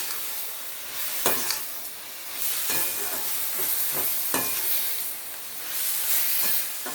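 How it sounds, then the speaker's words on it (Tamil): Freshly grated coconut sautéing in a pan for onion chutney, a loud close sizzle broken by several sharp spatula scrapes and stirring strokes, with no talking. "இப்போ அந்த 2 சில் தேங்காயும் சேர்த்துடலாம். துருவி வச்சுருக்கேன். நல்லா வதங்கட்டும்."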